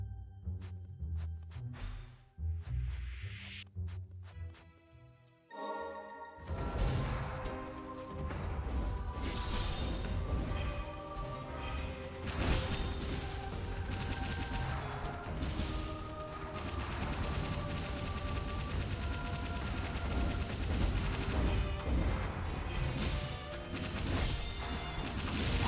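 Enemy barrage attack in the video game Ender Magnolia: after a sparse, quieter opening, a dense, sustained volley of crashing impacts and rapid gunfire-like bursts erupts and keeps pounding loudly to the end, with no talk.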